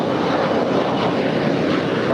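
A six-year-old SkyWest Embraer E175LR jet rolls for departure on an LAX runway, giving a loud, steady engine roar that holds evenly throughout, heard from close by.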